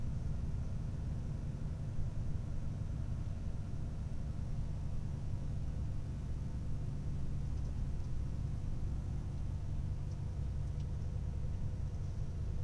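A heavily loaded truck carrying almost 24 tonnes labours along an Italian road, its engine a low, steady, continuous rumble with road noise, heard from inside the cab without any talk.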